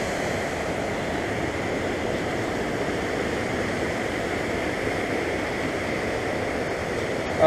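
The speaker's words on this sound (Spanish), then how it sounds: "Es increíble cómo están bajando las aguas." River water rushes in a steady, unbroken wash of broadband noise, loud and close, with no voices over it.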